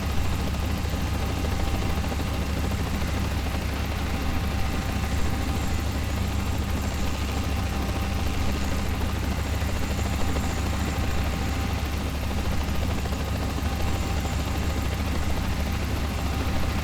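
Helicopter on a training flight circuit, a steady, loud broadband rotor and engine drone that stays constant throughout without any voices.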